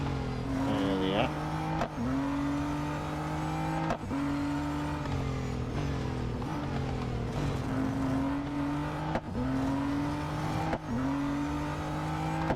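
Race car engine in the Real Racing 3 video game holds a high, steady drone with repeated quick gear shifts every couple of seconds. A brief tire squeal comes early, and everything stays loud and continuous.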